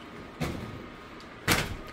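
Refrigerator drawers for yogurt, meat and deli items slide open and shut while groceries are put away, two distinct sliding thumps about a second apart, close and fairly loud.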